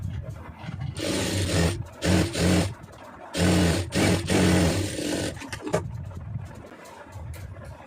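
A sewing machine stitches blouse lining in several bursts of rapid mechanical whirring, each run a second or two long and separated by short pauses, close and fairly loud.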